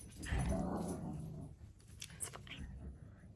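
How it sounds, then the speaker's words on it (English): A dog whimpers and lets out low grumbling growls indoors during a crafting session, moderately close, with a few soft yips and some rustling around it. "And there's my dog going."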